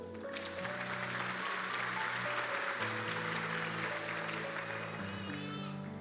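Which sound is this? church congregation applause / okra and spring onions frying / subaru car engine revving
church congregation applause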